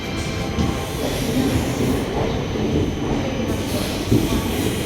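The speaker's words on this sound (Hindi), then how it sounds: "थोड़ी ही देर में हम लोगों की ट्रेन प्लेटफार्म नंबर 6 को ख़त्म करने वाली है" The 14118 Kalindi Express rolls out of platform 6 at Prayagraj Junction, a steady close rumble of train wheels on track with faint squeals, heard from inside the coach.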